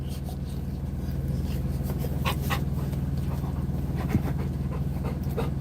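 A large dog pants close to the microphone in a rapid, steady rhythm, with faint rubbing and scratching noises mixed in.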